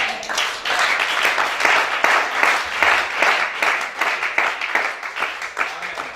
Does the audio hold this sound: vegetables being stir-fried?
no